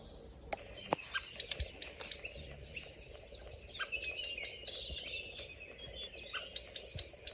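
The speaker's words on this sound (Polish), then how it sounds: "Kos pewnie ma tu gniazdo, gdzieś w tej wierzbie." A common blackbird sings near its nest in a willow in late May: bright, fluting phrases and chirps come in bursts, fairly close and clear over a quiet outdoor background, with short pauses between phrases.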